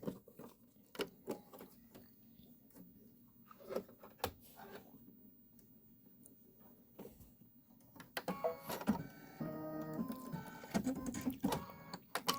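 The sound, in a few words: embroidery machine stitching flowers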